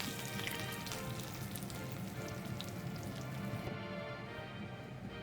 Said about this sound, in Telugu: తాలింపు పెట్టింది